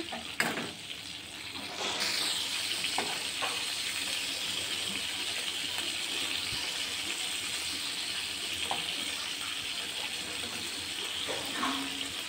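Small fish wrapped in bottle gourd leaves fry in a pan over low heat, giving a steady, soft sizzle that runs throughout with occasional light clinks of turning.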